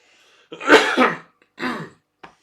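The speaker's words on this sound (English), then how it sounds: "Stop coughing." A person coughs in a few harsh, close bursts, a long rough fit followed by a shorter one and a faint final catch, with no talking over it.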